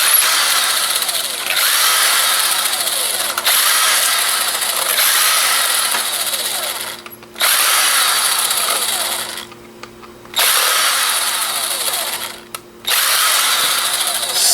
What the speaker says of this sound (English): So let's unscrew some of this stuff.